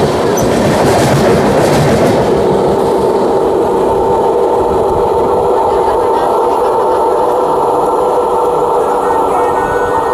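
A passenger express train, the Jan Shatabdi Express, rolls along with a loud, steady rumble and rhythmic clickety-clack of wheels over rail joints throughout.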